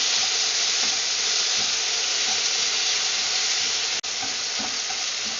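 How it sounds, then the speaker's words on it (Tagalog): Tomato frying in a pan for squid cooked in coconut milk, a dense, constant sizzle and hiss with soft stirring scrapes beneath, close and even throughout, broken by one brief dropout, with no talking. "Stir, mix well together until it turns soft."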